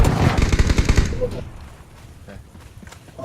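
Rapid automatic gunfire bursts from the game PUBG, loud and close for about a second, then fading to quieter scattered shots and game noise, with a player talking over it.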